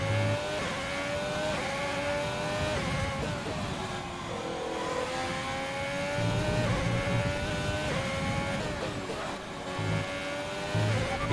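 Formula 1 car engine in the F1 2020 racing game at Monza, a continuous high-pitched whine with rising and falling gear-change sweeps, loud and steady throughout with no talk.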